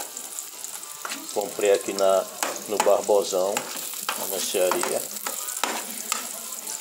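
A slightly green banana fries in good butter in a pan, with a steady close sizzle and crackle running under someone speaking Portuguese.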